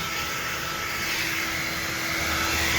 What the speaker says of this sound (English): we're blow drying it together. Heat it up, cool it down.